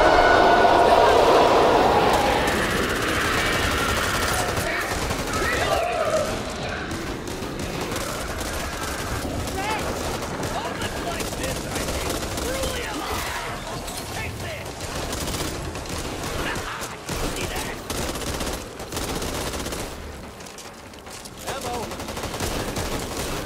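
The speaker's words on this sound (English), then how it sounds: "Let's shoot this last one." Sustained gunfire from the video game Back 4 Blood, loud bursts and rapid volleys layered with game noise over about twenty seconds, starting heavy and staying busy throughout.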